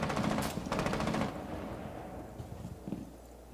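Automatic gunfire in Rainbow Six Siege, a rapid run of loud close shots for about a second, then fainter scattered impacts and movement noises.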